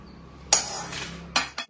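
Toor dal being dry roasted in a bare hot pan, heard as a few sharp metallic clinks and scrapes of the ladle against the pan over a faint sizzling hiss, with no talking.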